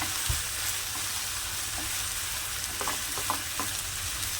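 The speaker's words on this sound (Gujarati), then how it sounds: "આદુ, મરચાં, લસણ ને કાંદો આ રીતે આપણે હવે એને શેકી લઈશું" Ginger, green chillies, garlic and onion sauté in a pan with a steady, close, moderately quiet sizzle, broken now and then by faint stirring clicks. No one speaks.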